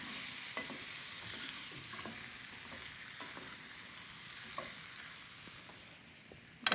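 Beef suqaar with lime juice sizzles quietly in a pan while a utensil stirs it, leaving soft scrapes and taps in an irregular rhythm over a steady background frying hiss.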